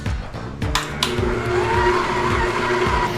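A stand mixer kneads pretzel dough with a steady whirring motor hum and rhythmic knocking from the start, loud and close.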